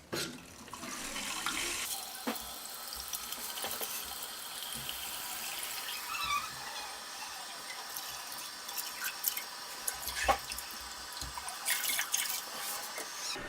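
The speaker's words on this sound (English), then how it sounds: "turn the tap on." Water runs from a tap during repair of an American Standard toilet flush valve, a steady close hiss with light dripping and splashing throughout, growing busier toward the end.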